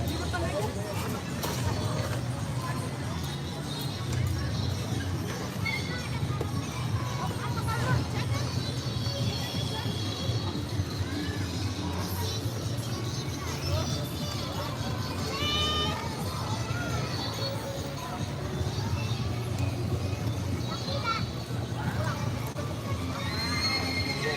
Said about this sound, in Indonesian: Ada yang teriak-teriak kudanya.